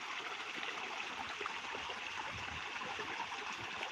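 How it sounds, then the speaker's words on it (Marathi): Steady rushing irrigation water flowing continuously from a pump onto a cotton field, a broad even hiss like a stream pouring from a pipe, moderately quiet and unbroken throughout. "कपाशीला पाणी देणं चालू आहे आपल्या"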